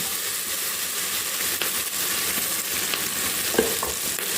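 Onions and green chillies fry in a hot pan, a continuous close sizzle with occasional stirring scrapes and a small pop near the end, with no voices heard.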